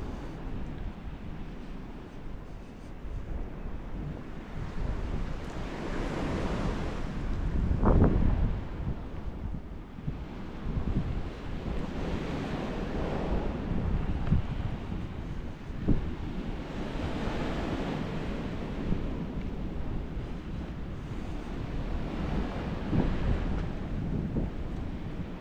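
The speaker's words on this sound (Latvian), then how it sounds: "Un tie viļņi." Sea waves surge and wash in continuously while strong wind buffets the microphone, a loud, rough roar with no voices.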